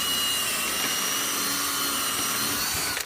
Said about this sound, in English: So I'm just putting the handle on. So I'm just drilling.